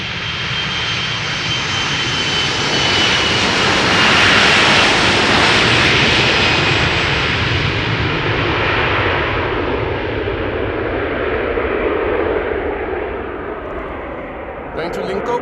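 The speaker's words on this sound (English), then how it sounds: "Airplane now taking off. It's number 175 from KLM" A KLM airliner takes off from snowy Amsterdam Schiphol, its engines a loud, broad, sustained roar that swells to a peak and then slowly fades as the plane climbs away.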